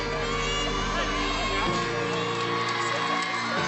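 An arena crowd at a women's college gymnastics championship meet cheers and whoops in a steady, dense roar, with a constant hum of noise under it and a commentator talking over it.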